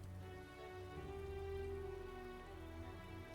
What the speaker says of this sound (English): we're in the middle of rain